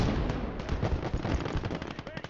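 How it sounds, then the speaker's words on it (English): A .50 caliber machine gun in the Gates of Hell video game fires rapid, dense bursts nearby, a loud rattling stream of shots with battle noise and voices mixed in. "That's my 50 cal firing in support of you."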